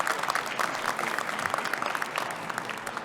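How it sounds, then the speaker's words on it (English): Steady, dense applause from a convocation audience at a fall graduation ceremony, sustained and moderately loud throughout with no voices over it. "Please, a round of applause for her."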